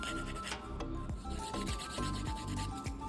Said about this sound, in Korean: 통젤 작업을 하고 파일링 작업을 또 해줌으로써 극강의 표면의 매끄러움과 칼질을 다시 잡아주고